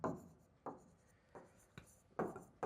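Pen writing on paper while working through a maths problem, a series of short, crisp scratching strokes at uneven intervals, close and quiet with no talking.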